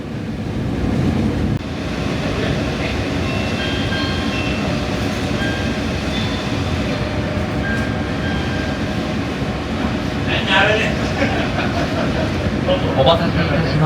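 Steady rumble of the West Express Ginga night train departing Kyoto Station, with faint tones and soft clatter over a continuous low roar.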